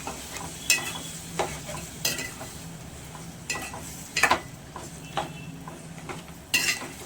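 A spoon stirs goat head curry with tomatoes in a pot, striking the metal in irregular sharp clinks every second or so over a low, continuous simmering sizzle.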